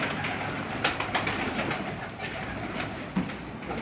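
Teddy pigeons coo softly and repeatedly close by, with a few louder flutters and bursts and no talking.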